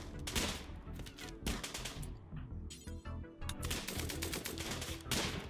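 Rapid machine-gun bursts in the colony game Rimworld, dense overlapping volleys of sharp gunfire crackling almost nonstop with brief gaps, close and loud, with no voice over them.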